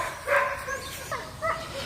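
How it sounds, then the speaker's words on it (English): A neighbor's dog barks a few times outdoors, short yipping barks in quick succession at moderate distance over low background hum. "I apologize for my neighbor's dog barking over there"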